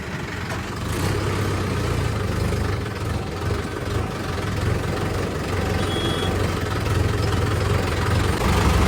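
A New Holland 5630 4x4 tractor engine runs at a steady low idle-like rumble, close and continuous, with a faint high beep in the middle.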